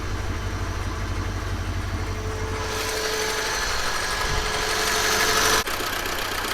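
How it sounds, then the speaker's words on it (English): A 1974 BMW E12 520, not run for over ten years, idling with a steady low rumble that grows rougher and louder midway, with a faint whine, before cutting off abruptly near the end. "idle has stabilized a little bit more"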